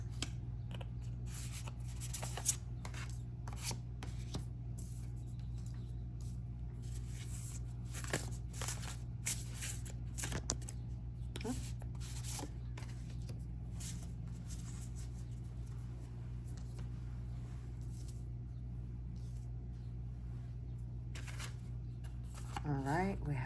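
Tarot cards being shuffled by hand at home, a soft continuous riffling and sliding of card stock through most of the stretch, with a steady low hum underneath and no talking.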